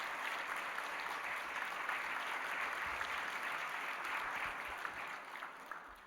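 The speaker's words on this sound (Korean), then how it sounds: "박수로 우리 환영하겠습니다." A church congregation claps to welcome a visiting pastor during a worship service, producing a sustained, even round of applause that continues throughout and eases slightly at the end.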